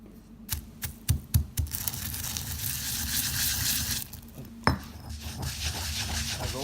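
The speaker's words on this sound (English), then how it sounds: "when the coriander pods are roasted, in they go into some mortar," Roasted coriander pods dropped into a mortar give a run of sharp clinks and rattles, followed by a rougher scraping, crunching stretch as they are ground.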